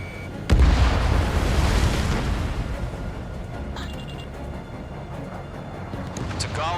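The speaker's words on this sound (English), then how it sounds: "Bomber hit by a missile." Missile striking a bomber in a video game: one sudden heavy boom followed by a long rumbling decay that fades into quieter background noise, with radio voices briefly present.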